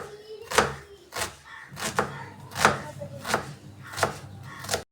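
A knife chops onion on a cutting board in about eight firm, evenly spaced strokes, each a sharp close thud, with nobody speaking.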